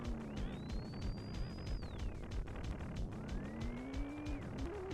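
A low-polygon car races in an Atari video game, its engine note rising and falling in two long revving sweeps over steady synthesized game audio, loud and continuous.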